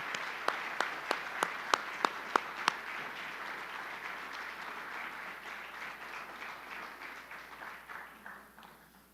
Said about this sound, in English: How about a round of applause for our two award winners?